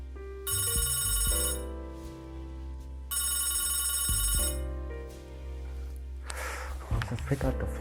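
A telephone bell rings in two long, loud bursts separated by a pause, its metallic trill sharp and close, with a brief rustle afterward.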